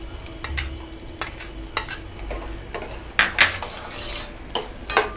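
Cardamom, roasted gram and coconut are stirred together in a metal pan over heat. A spoon scrapes and clinks against the pan in irregular strokes, some sharper, over a faint sizzle.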